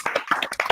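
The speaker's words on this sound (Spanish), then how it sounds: "le damos a Marcos un aplauso" A few quick, sparse hand claps sound after a talk, close and fairly soft, lasting under a second.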